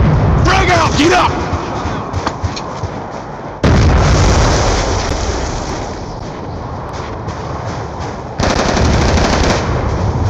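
A frag grenade going off amid close combat: sudden loud blasts with rushing debris noise, surrounded by heavy gunfire and shouted voices.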